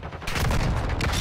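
A loud burst of gunfire in Warzone 2 cracks out after a brief quieter moment, a dense clattering volley lasting about a second.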